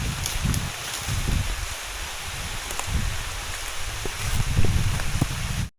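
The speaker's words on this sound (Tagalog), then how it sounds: "Inarabutan na po tayo ng ulan." Rain falling outdoors in a rural field while native snails are gathered: a steady, moderate patter with wind noise and rustling over low rumbles, continuous until an abrupt cut.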